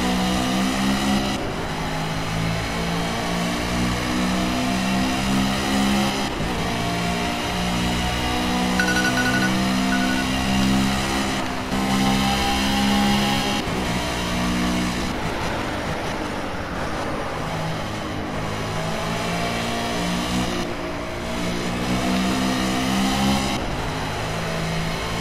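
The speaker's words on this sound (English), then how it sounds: "I'm really putting my foot into this car here." A race car in the Project Cars racing game, driven hard during a practice session at Dubai Autodrome, holds a loud, continuous high-revving engine note with shifting pitch and brief dips at gear changes, heard alone without talk.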